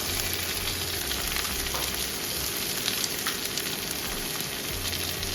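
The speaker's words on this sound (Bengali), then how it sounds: "এতে এবার ভালো করে একবার নাড়িয়ে নিয়ে সবজিটা একবার ভালো করে নাড়িয়ে নিচ্ছি" Carrots and beans stirred with chopped potato in a pan for Bengali-style chowmein, giving a steady close sizzle with faint scraping stirs throughout.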